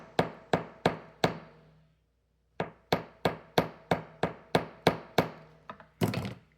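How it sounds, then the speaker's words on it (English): Hammer taps on wire while shaping paisley earrings: four sharp metallic strikes, a brief pause, then a steady run of about ten more even blows, close and clear, ending in a rougher scrape. "if I need to do any more hammering"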